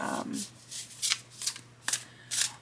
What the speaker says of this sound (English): I'm going to shake them up, I'm going to shuffle them